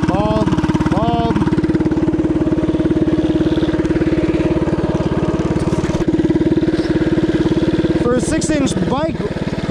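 Coleman CC100X mini bike with a small engine and a bald rear tire, ridden off-road; the small engine drones steadily and loudly close by, its pitch rising and falling with the throttle, while a person talks over it.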